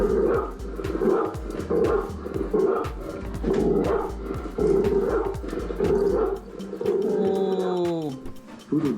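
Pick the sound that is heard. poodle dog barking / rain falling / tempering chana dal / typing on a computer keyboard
poodle dog barking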